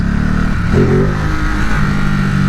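A Ducati Supersport 950 motorcycle lifting into a small wheelie, its engine loud and close with a throaty rev rising and holding steady, no voices.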